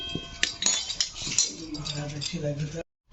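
A metal karahi is set back on a village kitchen stove, giving sharp metallic clinks and knocks. The clinks are close and bright, someone speaks over them, and the clip ends in sudden silence.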